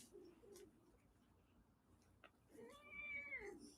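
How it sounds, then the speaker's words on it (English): A pet cat meows indoors, one drawn-out, rising and falling meow near the end after a quiet stretch with faint small noises, fairly close but soft. "I have a kitty named Elvis."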